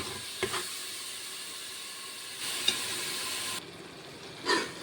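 Coriander, mint and green chilies frying and being stirred in a pan with garlic for mutton biryani, a steady close sizzle and hiss with a few spoon scrapes and knocks.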